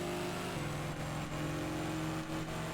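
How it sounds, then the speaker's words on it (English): A car engine in the video game ToCA Race Driver 2 drones loudly and unevenly, cutting out and spluttering, its pitch stepping and wavering as it revs, with a continuous mechanical whir throughout. "Car's cutting out, coughing and spluttering all over the place."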